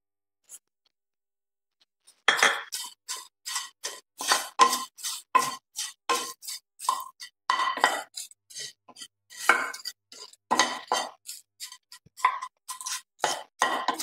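Dry stone flower spice roasting in a pan, giving a steady run of small, sharp crackles and ticks close by after a brief quiet start, with no talking.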